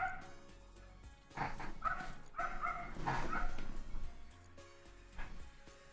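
A dog barks and yips indoors, a few close, moderately loud woofs and whiny yelps rising over quiet room background, with faint television sound behind.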